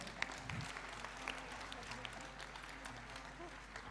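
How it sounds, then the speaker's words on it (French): Faint, distant applause from the audience at a Queen of the Lily of the Valley pageant in Compiègne, steady crowd clapping heard under a low background hum. "on peut l'applaudir très fort."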